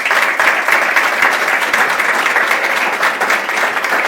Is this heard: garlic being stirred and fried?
no